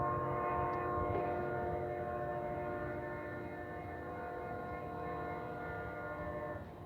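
A long train rolls past in a sustained, droning rumble with steady tonal ringing over low mechanical noise, fairly loud and easing slightly toward the end, with no talking.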